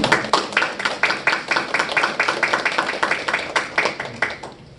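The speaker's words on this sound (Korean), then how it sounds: "박수로 한번 환영해 주시고" A lecture audience at a Sungkyunkwan University graduate special lecture claps in steady unison, with sharp, evenly spaced beats of about four per second that continue without a break for several seconds.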